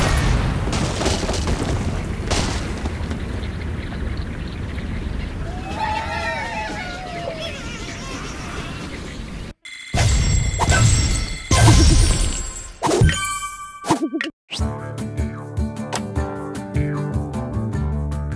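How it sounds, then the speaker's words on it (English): Angry Birds bomb bird bursting and smashing through pig structures in a mobile video game, a loud booming blast and clattering crashes of falling blocks, followed by cheerful game music and chimes. "But I can still send this bomb over."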